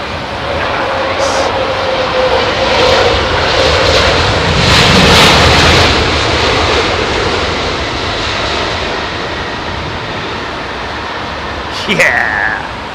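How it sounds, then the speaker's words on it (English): A jet airliner lands at London Heathrow in low visibility, its loud engine roar swelling and easing, then ending in a short, sharp thrust reverser burst. People talk over it. "a tiny burst of reverser there"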